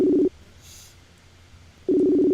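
A phone call ringing out on the line: two loud, steady electronic ring tones, one at the start and one at the end, separated by a quiet gap.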